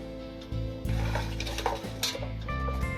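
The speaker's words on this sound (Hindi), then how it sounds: "बथुआ के साग। इसको अच्छे से मिला लेंगे, इसको हम फेंट लेंगे।" Bathua, fenugreek, spinach and coriander greens being mixed together make close scraping and stirring scuffs with light clinks against the vessel, over a steady low hum.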